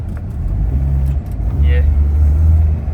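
A faulty 2005 Corolla pickup's engine revs up sharply when the accelerator is stabbed, then settles back into a low, rumbling idle, with a brief higher tone in between; the sound is close and fairly loud.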